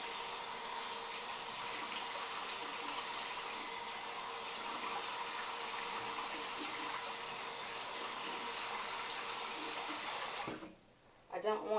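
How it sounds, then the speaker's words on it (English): Water running from a bathroom tap during a skincare routine, a steady broadband rush filling most of the clip before it cuts off near the end, with faint splashing at the close. "I'm just going to do like this with the water."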